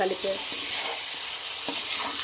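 Chicken sizzling in hot oil with ginger and garlic, stirred in the pan; a steady close frying hiss runs throughout with a few soft scraping stirs and no talk.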